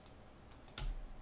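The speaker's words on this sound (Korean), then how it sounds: "클릭, 클릭." A few sharp computer mouse clicks, close and isolated, spaced unevenly over a quiet room background.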